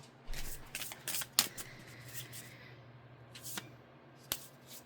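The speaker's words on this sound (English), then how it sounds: "let me overhand shuffle a couple of times" A deck of oracle cards is shuffled overhand, a series of soft papery riffles and slaps in uneven bursts over a quiet background.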